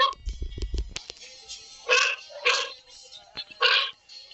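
A dog barks several times in short, separate yaps, with some rumbling handling noise at the start and brief pauses between barks.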